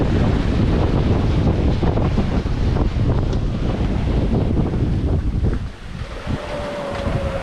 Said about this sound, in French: le vent et les vagues ont vraiment forci.